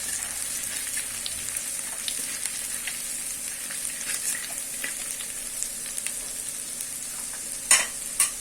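Ginger sizzling in hot oil in a pan for a Jain-style sabji with no onion or garlic, a steady close frying hiss with a couple of brief clinks near the end.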